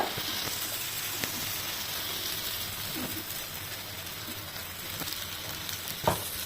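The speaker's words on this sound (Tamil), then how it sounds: "அந்த வெங்காயம் நல்லா வதங்கட்டும் இப்போது நம்ம அரைச்சி வச்ச மசாலா வந்து இதில் போட்டுடலாங்க" Onions and ground masala sauté in a pan for radish masala fry, a soft continuous sizzle and hiss with occasional light stirring taps, fairly quiet and without talk.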